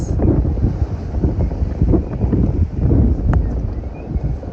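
Strong wind of about 25 knots roars steadily across the microphone while a sailboat runs fast up a coastline toward Lizard Island, a continuous loud gusting rumble with no voices.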